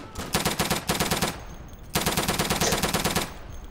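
Machine-gun fire in the World War II shooter game Day of Infamy rattles out in two loud, rapid automatic bursts separated by a short pause.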